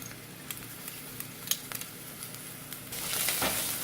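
Garlic sautéing with golden-brown onions in a pan for tomato basil soup, a soft sizzle with light stirring taps that swells louder toward the end.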